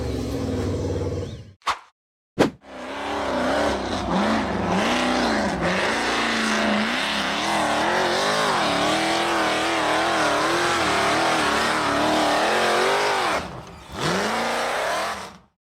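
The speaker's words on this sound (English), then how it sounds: "The green buggy aggressively powered up the steep dirt and sand hill." A green off-road buggy powers up a steep dirt and sand hill, its engine roaring loudly and continuously with wavering revs after a couple of brief cutouts near the start, then a short dip near the end.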